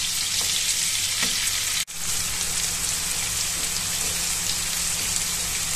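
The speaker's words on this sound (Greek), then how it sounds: "Θα τσιγαρίσουμε πολύ καλά τα κρεμμύδια μας." Onions sautéing in a pan give off a dense, steady crackling sizzle up close, with one brief dropout partway through. The hiss continues without voices.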